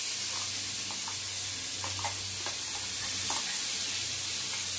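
Ground radish paste tipped into a pan of fried onions, giving a steady close sizzle and hiss with faint stirring scrapes, and no voices.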